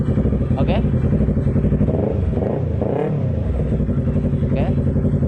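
A Yamaha R25 motorcycle fitted with a smart key alarm starts and runs, a steady close engine drone with a couple of short high alarm chirps and someone talking over it.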